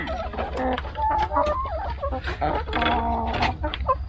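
Chickens cluck and squawk repeatedly inside a small, budget-built backyard coop, loud and close, with overlapping calls and a steady low hum behind them.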